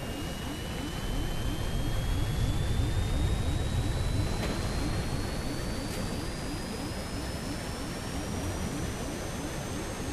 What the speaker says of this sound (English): Anyway, plane is going down.